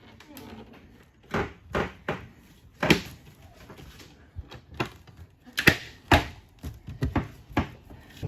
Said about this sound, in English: Close the door, don't slam it.